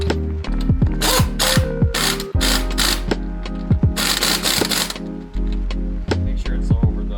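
Ratchet clicking in quick repeated bursts, loud and close, while lug nuts are run down snug on a 2001 Chevy Silverado 1500 wheel over a hub-centric wheel spacer; brief pauses separate the runs, with no talk.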